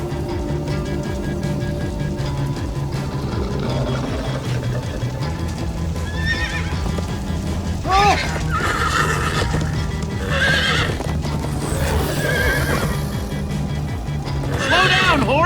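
Horses whinny repeatedly over steady clip-clopping hooves and music, with people talking and shouting throughout, in the video game Minecraft: Story Mode.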